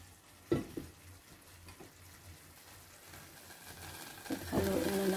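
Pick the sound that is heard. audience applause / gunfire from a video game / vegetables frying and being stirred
vegetables frying and being stirred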